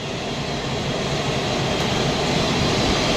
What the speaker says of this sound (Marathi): आता सौदियाचा विमानाचा आवाज बघा.